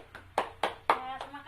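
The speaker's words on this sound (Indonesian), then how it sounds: "Nah, ayo tepuk tangan." A second-grade classroom bursts into short, scattered applause, a few quick claps ringing out loosely and close, mixed with children's voices.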